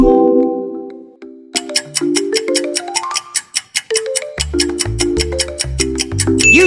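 YouTube audio logo: a soft sustained chord fades out, then a steady run of rising plucked notes over regular percussive ticks, building into a fuller bass-driven pattern, loud and clear with no talking.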